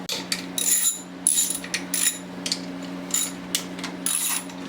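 A ratchet clicks in quick repeated bursts while loosening 10 mm bolts on a motorcycle in a garage, the pawl rattling close and crisp with brief pauses between strokes over a steady low hum.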